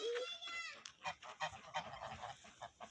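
Geese honking repeatedly near a farmyard pond where ducks also roam, a burst of harsh honks at the start followed by scattered loud calls, with no talking over them.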